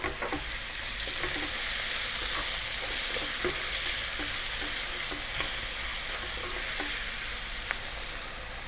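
Chopped onion and garlic fry in a pan with a steady, loud sizzle throughout, broken by occasional scrapes of a utensil stirring.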